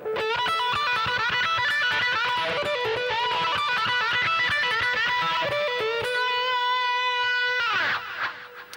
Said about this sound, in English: And if you step on the wah-wah and play it fast, it sounds like this.